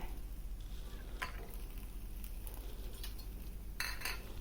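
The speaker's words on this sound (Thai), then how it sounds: "แล้วก็มะเขือเทศค่ะ ขั่วใส่กัน" Chilies, garlic, shallots and tomatoes stir-fried together in a pan for a Thai-Lao chili dip, giving a steady low sizzle with scattered scraping stirs and a few utensil clinks throughout.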